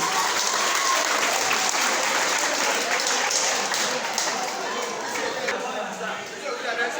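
Participants in a group workshop clap loudly for themselves, a dense burst of applause mixed with chatter and voices that tapers slightly toward the end.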